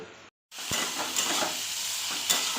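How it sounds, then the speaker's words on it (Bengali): Papaya pieces seasoned with salt and turmeric fry in hot oil with a steady, close sizzle after a brief silent break, with occasional light stirring clatters and no speech. "লবণ আর হলুদ দিয়ে আমি ভালো করে এটা ভেজে নেব"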